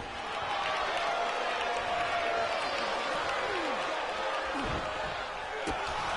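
Packed wrestling audience cheers during a match, a thick, constant roar of crowd noise with scattered claps and a few dull thuds from the ring underneath.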